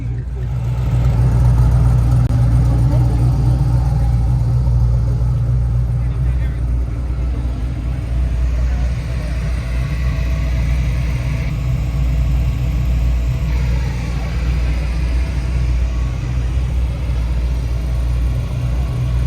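A car hauler truck idles at a supercar gathering in Aventura, Florida, a deep, steady engine rumble close by and continuous, with people chatting over it.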